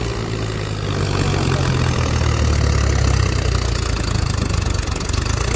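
Mahindra 265 DI XP Plus tractor hauling a fully loaded trolley, its diesel engine giving a loud, steady, close droning roar under strain with a low throb, no voices heard.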